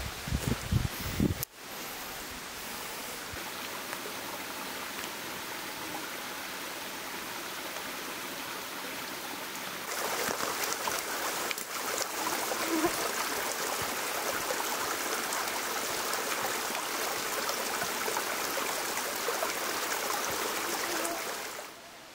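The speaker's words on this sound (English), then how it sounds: "Oh, nice little creek." A small creek flows through woodland, giving a steady broadband rush of running water that swells louder about halfway through, with a brief rustle near the start and no voices.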